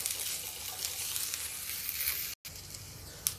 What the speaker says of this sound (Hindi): ये आलू हम इसलिए फ्राई कर रहे हैं